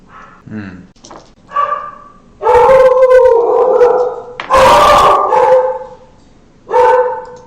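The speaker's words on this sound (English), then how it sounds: "every time I unpause, they start barking" Dogs bark and howl in a game graveyard scene, a string of loud close woofs and drawn-out yowling cries arriving in bursts separated by short pauses.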